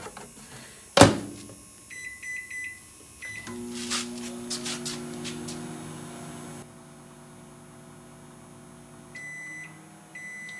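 A microwave oven heats breakfast: a sharp door clunk, keypad beeps, then a steady low hum of the running oven with a faint whirr, ending in a pair of closing beeps.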